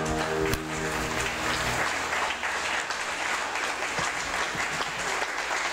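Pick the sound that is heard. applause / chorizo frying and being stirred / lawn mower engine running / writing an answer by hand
applause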